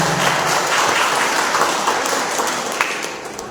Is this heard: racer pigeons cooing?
no